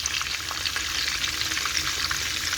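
Chicken pieces for Tex-Mex chicken parmesan fry in a pan with a steady, loud, dense sizzle and crackle that runs unbroken throughout, with no voices over it.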